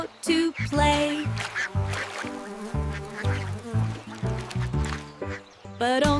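Repeated quacks are sung by a voice imitating a duck, rhythmic and bouncy over a light tune.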